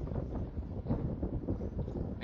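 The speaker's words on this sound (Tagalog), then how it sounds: "Medyo malakas na hangin dito." Strong wind buffets an outdoor microphone during a group bicycle ride, a steady low roaring rumble that fills the whole short stretch at close range with no voices.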